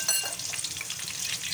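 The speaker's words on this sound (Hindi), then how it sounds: "इनके सारी की सारी हम मिर्चें इनको इसमें फ्राई करेंगे।" Green chilies fry in plain ghee, giving a dense, continuous crackling sizzle that holds steady and close throughout.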